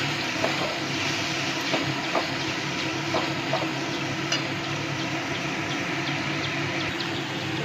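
Spice paste for a dried fish curry fries in a pan with a steady, continuous sizzle, joined by faint occasional scrapes of stirring.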